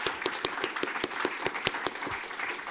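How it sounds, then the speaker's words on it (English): Applause at a magazine launch event, quick sharp claps over a light crowd murmur. The claps are fairly close and spaced somewhat irregularly, with a few hands standing out above the rest. "I think we can have an applause for both the creation of the magazine"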